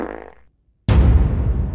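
A loud, cartoonish fart sound effect in a Roblox Brookhaven superhero game bursts out suddenly and rumbles for about a second, following a fainter, sputtering lead-in and a short silence.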